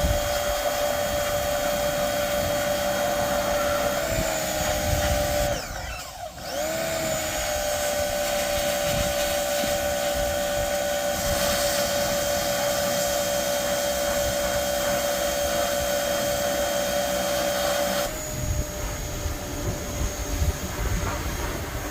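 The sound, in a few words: small power washer cleaning a Kenworth truck frame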